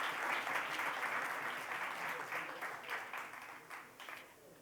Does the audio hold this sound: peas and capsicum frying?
no